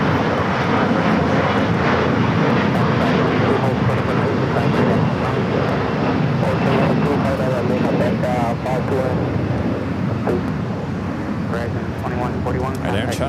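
An airliner takes off from runway 25 right at LAX, its jet engines roaring loudly and steadily throughout at a fair distance, while a person talks over the noise.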